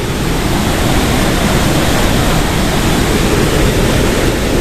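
A river carrying wood and bamboo debris rushes in a loud, continuous broadband roar, close and steady with no voices.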